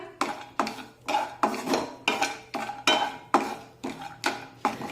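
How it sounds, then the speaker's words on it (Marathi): Cashews and almonds are stirred in ghee in a pan over a low flame, with close, rhythmic spoon-scraping strokes about twice a second and no talk. "तर या तुपामध्ये काजू आणि बदाम परतून घेऊया"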